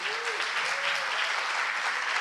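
Audience applause welcoming Saul Williams to a panel table, a dense, loud, even burst of clapping from a crowd lasting a couple of seconds.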